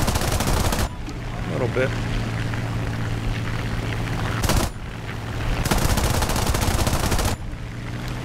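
Rapid bursts of machine-gun fire from an F3F-2 fighter plane in War Thunder, several short rattling volleys over a steady droning propeller engine, with someone talking briefly between bursts.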